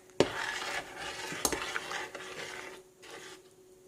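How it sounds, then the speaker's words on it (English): Mung bean soup (Filipino monggo) stirred in a pot, giving a sharp utensil knock at the start, then a steady swishing, scraping mix that fades toward the end, with no voices. "I'm just gonna give it a good mix"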